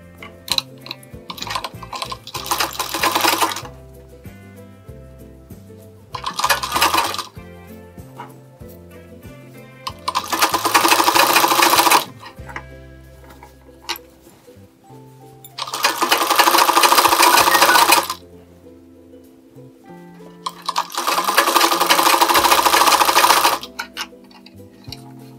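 Sewing machine stitching the lining of a blouse in four separate bursts of rapid, close mechanical whirring, with quiet pauses and small handling clicks between them.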